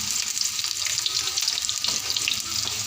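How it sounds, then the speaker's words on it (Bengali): Cut pointed gourd pieces fry in hot mustard oil with a steady, close, dense sizzle that runs unbroken throughout, with no talking. "তেলটা গরম হয়ে গেছে, তার মধ্যে কাটা পটলগুলো ছেড়ে দিলাম।"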